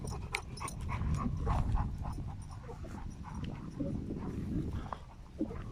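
A female dog, newly arrived from Ordu on the Black Sea coast, pants steadily at close range, a rapid rhythmic breathing sustained throughout with faint whimpers and movement.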